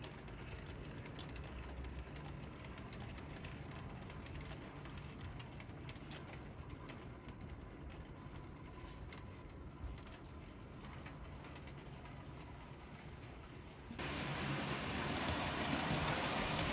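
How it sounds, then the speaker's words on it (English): Faint steady rumble and rolling clatter of a model Class 37 locomotive pulling a train out on track, continuous and even, with the noise rising slightly near the end. "then draws its train out of number 3 reception for its trip working to a nearby SCO yard"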